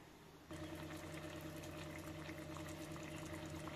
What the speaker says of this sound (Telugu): ఇంకా కొంచెం వేస్తున్నా నీళ్ళు,